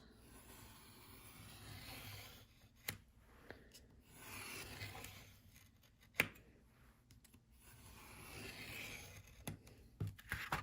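Scissors snip paper for handmade page tabs, producing faint, sparse cuts and rustles over a quiet hissy background, with no talk.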